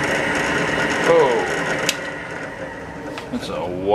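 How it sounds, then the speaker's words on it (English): A small, wobbly power drill whirs and grinds steadily into a printed circuit board, with uneven, wobbling pitch and a few sharp clicks. "that's a wobbly drill."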